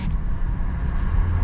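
Outside traffic rumbling steadily through the rolled-down window of a 2021 Ford Edge Titanium while driving, a loud, continuous low roar of road and wind noise with no talk.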